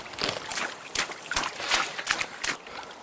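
Water splashes and sloshes in irregular bursts as someone swims nearby, with soft dribbling between the stronger strokes.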